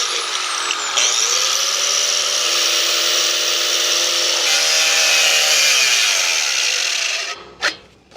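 Power saw blade cutting a hole through the steel wall of a shipping container, a loud continuous high-pitched screech with a dipping motor tone that runs for about seven seconds, then stops abruptly with a brief clank.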